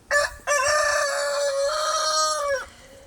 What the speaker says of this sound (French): c'est chiant le matin parce qu'il y a les 5 coqs du coup qui chantent